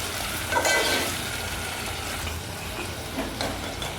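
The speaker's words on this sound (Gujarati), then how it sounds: "ટમેટા કાંદા અને લીલી મરચી ત્રણેય વસ્તુ આપણે નાખી દઈશું આને આપણે આ રીતે હલાવી નાખશું" Onions, tomatoes and green chillies are stirred in hot oil in a pan for a green corn and flattened rice chevdo, giving a steady, moderate frying sizzle with a soft scrape of stirring near the start.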